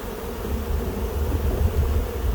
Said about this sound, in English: the bees look good and healthy. There's a lot of bees. They're working calmly